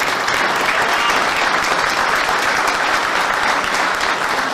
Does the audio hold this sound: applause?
yes